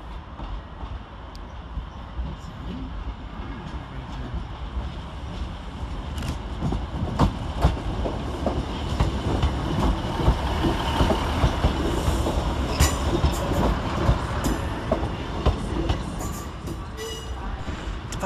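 ScotRail trains, including a class 380 electric and class 156 diesel units, depart Glasgow Central station: a loud, continuous rumble of rolling stock with wheel clatter and rising engine noise building through the clip in a large station setting.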